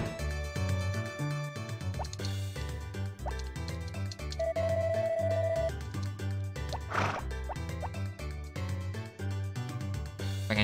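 Harvest Moon game sounds while watering crops with a watering can: repeated dripping, plopping water effects over looping chiptune-style background music, with a short tonal beep in the middle.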